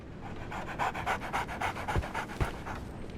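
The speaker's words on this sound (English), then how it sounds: "So, Barnes has a dog now." A dog pants in Sherlock Holmes: The Awakened, a steady run of quick, rhythmic breaths heard up close with a couple of soft thumps near the end.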